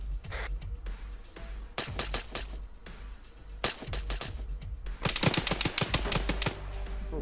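Gunfire in the military shooter Arma 3: repeated short bursts of automatic fire and single shots at moderate distance, in clusters separated by brief pauses, with the densest volley near the end.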